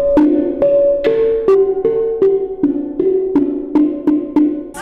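Notes struck on an untuned handmade steel drum ring out one after another, about a dozen metallic pings at a steady pace, each with a bright attack and brief wobbly decay, close and clear.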